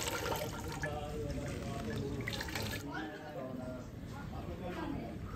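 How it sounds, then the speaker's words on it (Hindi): Water pours and splashes steadily from a cooking pot being drained onto a hard floor, a continuous close gush with people talking over it. "जरा अभी इसका पानी निकाल दिया है"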